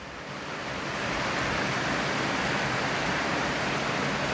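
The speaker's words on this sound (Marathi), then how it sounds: "बघा कसा पाऊस आहे आपल्याकडे आत्ता सुरू झाला" Heavy, steady rain pours down as a dense hiss that swells during the first second and then holds evenly with no voices.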